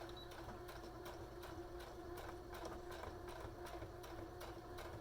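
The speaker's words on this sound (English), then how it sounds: "I'm going to do about 2 stitches and then I'm going to back stitch." A sewing machine stitches and back-stitches a fabric slip cover, a quiet, steady run of rapid rhythmic needle clatter with a faint motor hum and no talking.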